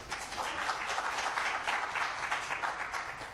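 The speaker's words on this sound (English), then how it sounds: "Give Rita another round of applause." An audience at a land debate in Uganda applauds a speaker, a quiet, distant-sounding round of clapping that rises and falls in soft waves without talk over it.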